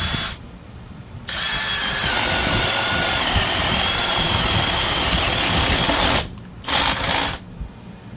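Vevor two-speed brushless 3/8-inch right angle drill running in high gear on a 4 amp-hour battery, a loud steady high-pitched motor whine that starts, holds for several seconds, then stops and briefly restarts, without talk.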